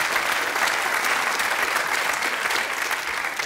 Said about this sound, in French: vous pouvez applaudissez-le, il le mérite